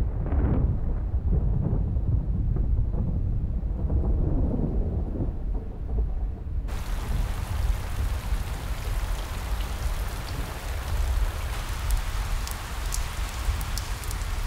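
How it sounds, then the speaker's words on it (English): Steady heavy rainfall with rolling thunder at the onset of the summer rainy season in rattlesnake desert country; a dense rumbling downpour fills the scene, turning to a brighter hiss of rain on surfaces partway through, with no voices. "with the first rains."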